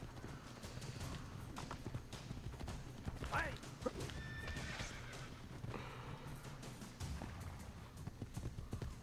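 A horse neighs loudly and hooves clip-clop at a gallop in the Assassin's Creed Brotherhood video game, with the whinny rising mid-clip over steady game noise.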